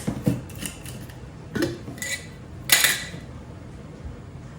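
A spoon mixes peanut butter and molasses into a goat dewormer treat in a bowl, giving a few scattered scrapes and clinks separated by quiet gaps.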